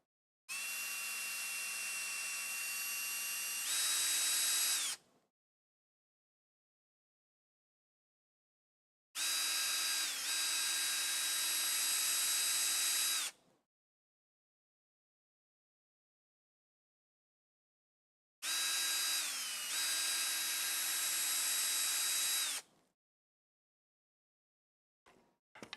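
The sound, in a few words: power drill drilling holes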